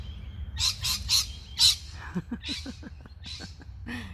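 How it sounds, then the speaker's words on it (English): Birds in a cemetery behind a church chirp and squawk in bursts of sharp, high calls, some quick repeated notes, moderately close over light outdoor background noise. "Crazy birds."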